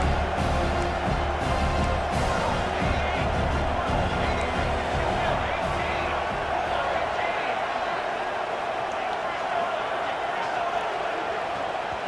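Stadium crowd at a football game in the fourth quarter, roaring loudly and steadily throughout, a dense wall of cheering and noise with commentary voices over it.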